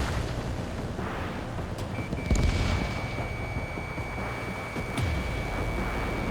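Fighter jet combat in Ace Combat 7 rumbles with bursts of cannon fire and booming impacts around the two- and five-second marks over a steady engine drone, with a high lock-on tone sounding throughout.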